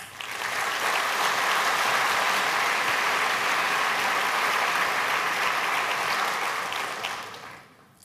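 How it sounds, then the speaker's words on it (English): Conference audience applause at a keynote swells in quickly, holds as loud dense clapping, then fades out near the end. "Please give them a round of applause."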